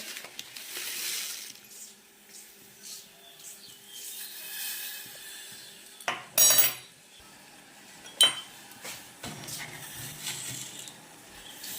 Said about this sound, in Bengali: চিনি দিয়ে দিচ্ছি দু চামচ একটু ভালো করে নাড়িয়ে দিচ্ছি